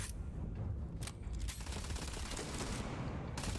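Gunfire in the sci-fi video game Starfield: several sharp shots crack out in quick irregular bursts over a dense, noisy game soundscape, with no talk.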